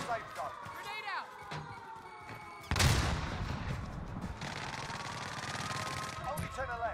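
Grenade blast and gunfire in the video game Call of Duty Warzone, a sudden loud explosion midway followed by rumbling debris and scattered shots, with players talking over the game sounds.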